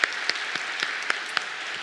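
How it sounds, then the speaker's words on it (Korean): A church congregation gives a short burst of applause during a Sunday service, soft scattered claps spread over a faint, steady patter without speech. "우리 김원유 형제 인사할 때 박수하며 축복하도록 하겠습니다"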